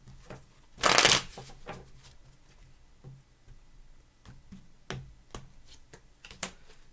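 Tarot cards are shuffled by hand, one loud riffle near the start followed by scattered soft taps and flicks of cards being cut and set down.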